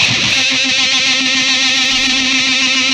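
An electric guitar runs through a vibrato pedal into fuzz distortion, sustaining a loud, saturated tone with a steady wavering pitch throughout.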